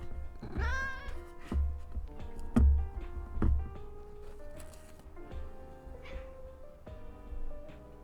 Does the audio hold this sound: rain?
no